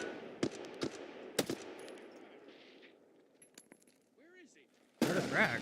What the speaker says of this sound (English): Oh, is that a grenade?